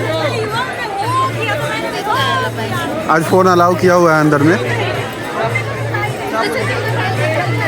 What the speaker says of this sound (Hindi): देखो यहाँ पर भीड़